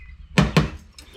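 The door of a rusty Dodge SRT-4 car being shut, giving two quick close thuds in rapid succession with a faint rattle afterward.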